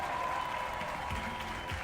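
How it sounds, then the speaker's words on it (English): Canned crowd applause plays in a city-building traffic and budget video game, a steady, fairly quiet wash of clapping lasting under two seconds. "Round of applause, man."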